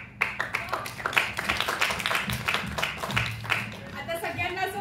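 Applause from an audience at a Marathi college stage play, a dense spread of many hands clapping for a few seconds.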